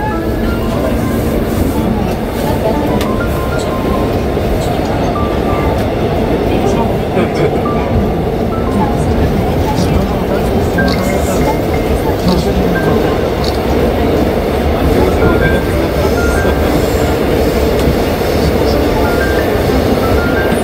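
A subway train runs with a steady, loud rumble and rattle that fills the whole stretch, while people talk over the constant noise inside the car.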